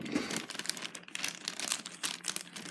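Continuous crinkling and crackling of a plastic bag being pulled and torn off a Fjallraven Kanken Mini backpack, close up, with irregular bursts throughout and no talking.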